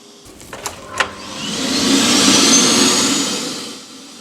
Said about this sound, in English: We would put a vacuum cleaner on low suction